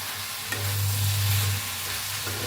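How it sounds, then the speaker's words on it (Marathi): Coriander with stems being stirred and roasted in a pan while preparing palak paneer, a steady loud sizzle with scraping stir sounds, close up and without speech. "बघा कोथिंबीर धुवून देठासकट घेतले, ते बी ह्याच्यात भाजून घेऊया"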